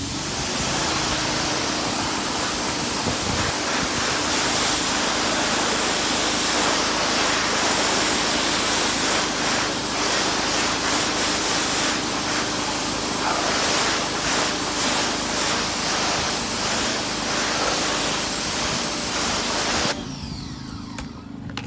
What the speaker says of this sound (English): we spray.